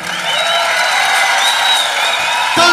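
Live concert crowd cheering and applauding for a cumbia band, a dense, steady roar of clapping and whoops with a few whistles, loud and sustained throughout.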